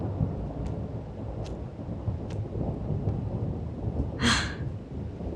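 Thunder rumbles under a steady wash of heavy acid rain, a continuous loud downpour with a few faint high crackles and a brief sharper burst near the end.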